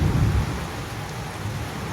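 Heavy rain pours steadily with deep thunder rumbling loudly at the start, then continuing as a dense, constant downpour with low rolling undertones.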